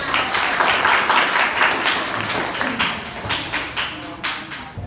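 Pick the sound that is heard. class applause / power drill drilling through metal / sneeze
class applause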